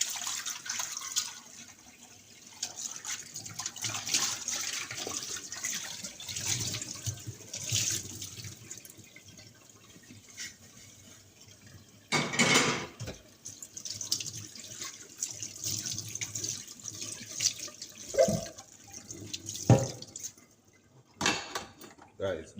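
A kitchen tap runs water into a cooking pot being rinsed out, a continuous close splashing stream with clinks and knocks of the pot, while a person talks over it.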